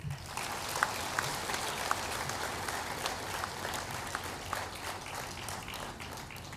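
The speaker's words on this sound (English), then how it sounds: "So please give a resounding applause to both of them." Audience applause at a university convocation ceremony, dense and sustained clapping from a large seated crowd, steady and somewhat distant throughout.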